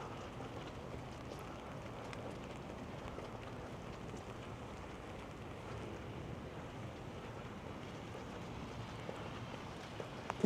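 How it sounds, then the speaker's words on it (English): Steady rain patters on an umbrella during a city walk along Yonge Street near Avondale Road in Rosedale, Toronto, forming a dense, continuous wash of noise close overhead with no voices. "I think the rain is letting up though."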